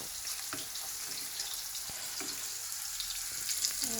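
Rui fish and pointed gourd frying in a pan, a continuous close sizzle with a few faint scrapes and clinks of stirring, no voices.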